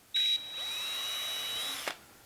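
A small power drill with a tiny bit whirs at high pitch drilling a pilot hole in wood, briefly revving, then runs steadily for over a second before winding down, close and alone.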